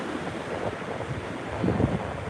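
Steady wind and surf rolling in at Tables Beach on Patrick Space Force Base in Florida, a continuous broadband wash with a slightly louder swell near the end and no voices.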